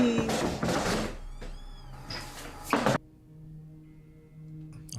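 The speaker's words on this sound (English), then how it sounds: "why am I hearing a door open?" A door thunks and creaks open at close range, with short knocking and scraping, then a near-silent pause and a faint hum.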